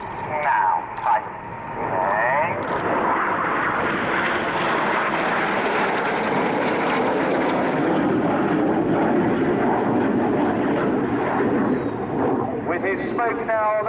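RAF Red Arrows jets performing aerobatics at RIAT 2015, a loud continuous roaring jet rumble filling the whole span, with a commentator talking over it.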